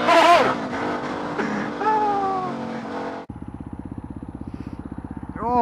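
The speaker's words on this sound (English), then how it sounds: "I'm doing a wheelie!" A motorcycle runs during a wheelie. Voices talk over the engine at first, then a close, rapid, evenly pulsing engine chug takes over, ending with a brief rising note.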